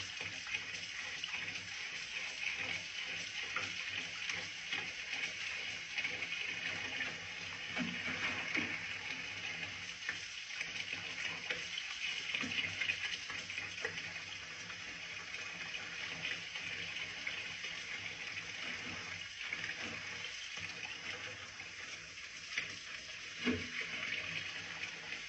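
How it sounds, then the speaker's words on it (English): A medical instrument is scrubbed with a brush under running tap water, a steady close gush of flowing water with faint brushing and occasional knocks beneath it. "And you're going to want to hold it vertically and do some scrubbing"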